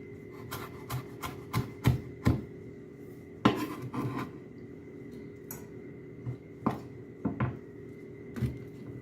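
A knife cuts through an onion on a cutting board in a home kitchen, giving a series of close, sharp thuds in uneven bursts with short pauses between them.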